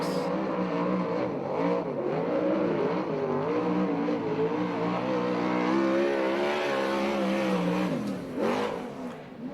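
USAC/CRA sprint car, the number 66, running a timed qualifying lap at Alger, Washington, its engine revving in repeated rising and falling sweeps at moderate distance, sustained throughout and dropping off near the end.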